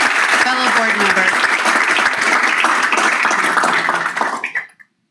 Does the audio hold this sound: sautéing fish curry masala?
no